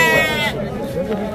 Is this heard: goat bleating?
yes